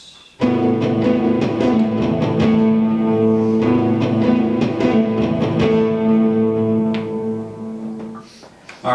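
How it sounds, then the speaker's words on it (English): Rhythm guitar part from a performance, steady strummed chords in a sustained harmonic bed with repeated attacks across the passage, loud and close with no voices. "the rhythm guitar sounds something like this."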